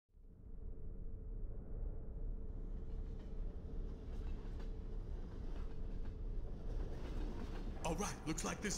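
A moving train in the video game Underhell gives a loud, steady rattling rumble with rhythmic clatter that builds quickly and holds, with sharper metallic bursts near the end.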